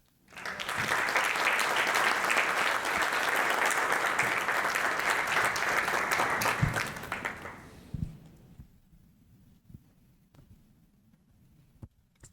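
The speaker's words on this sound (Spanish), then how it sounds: "Recibamos con un fuerte aplauso al licenciado Jaime Lara Carrión" A conference audience applauds a speaker being welcomed at a talk on Mexican port administrations: full, steady crowd clapping for about seven seconds, then fading into sparse scattered claps and room noise.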